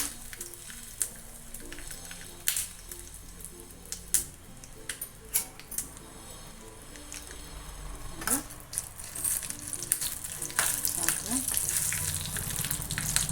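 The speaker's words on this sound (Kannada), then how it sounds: "ಆಮೇಲೆ ಕರಿಬೇವು ಮತ್ತು ಇದನ್ನು ಹಾಕ್ಕೊಳ್ತಾ ಇದ್ದೀನಿ" Curry leaves added to hot oil for a tempering, with the stove switched off, for a buttermilk rasam: a soft, continuous sizzle and crackle with scattered pops, gaining strength toward the end.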